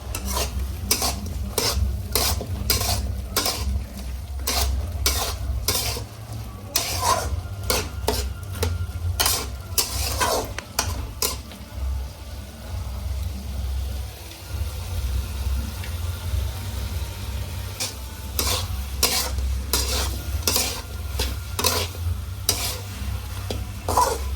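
Cabbage stirred in a hot pan with cumin and coriander powder for gobi Manchurian: a long run of repeated clacking spatula strokes against metal over a low sizzle, close, with quieter pauses partway through.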